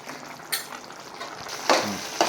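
Masala with turmeric sizzles in oil in a pan for mint rice while a spoon stirs it, with soft frying hiss and a few sharper scraping strokes close up.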